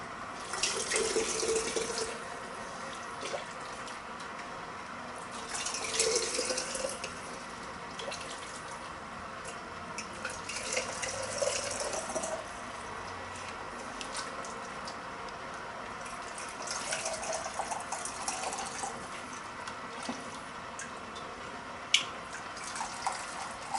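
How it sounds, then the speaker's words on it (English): Hot chicken bone broth poured into a hot jar, a continuous watery pouring and trickling with gurgling swells, close and steady with no talking. "Hot liquid into a hot jar."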